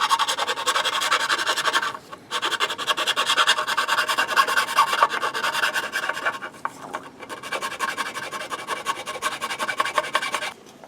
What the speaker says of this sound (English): I'll finish off cleaning up these edges with a file